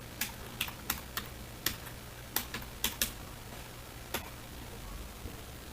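Someone types a password on a computer keyboard: a quick run of about a dozen sharp, close key clicks in uneven bursts, then a couple of isolated taps over a quiet room hum.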